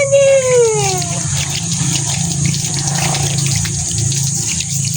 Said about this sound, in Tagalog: Banlawan na natin.